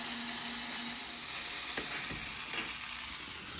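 Screws being backed out of the metal plate on a Xerox AltaLink B8000 series document feeder, giving a close, steady ratcheting whir with a few sharper clicks partway through.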